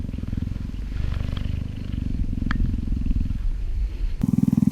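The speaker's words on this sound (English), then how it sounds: "Usually you have to grab her chest and make her purr." A captive wild cat purrs in a deep, steady rumbling rhythm, close and fairly loud, with a brief louder burst of purring near the end.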